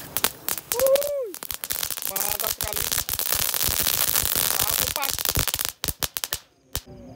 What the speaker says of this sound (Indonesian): yang pertama kita nyalakan adalah telur dino warna-warni atau mercon kretekan